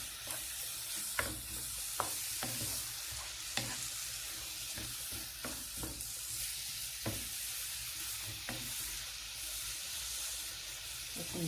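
Grated potato sizzles and fries in a nonstick pan with salt, giving a steady close hiss broken by irregular scraping and clicking stirs, with no talk.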